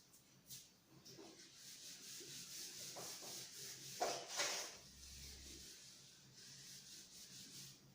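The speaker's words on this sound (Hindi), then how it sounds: "इसको रब कर दो।" Rubbing out writing with an eraser during a physics lesson, soft scratchy rubbing strokes, faint and close, over low background noise.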